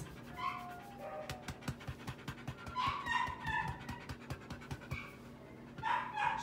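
A female Labrador mix, two to three years old and about 55 pounds, pants in steady rhythmic breaths close to the listener, with a few faint whimpers and some indoor background noise.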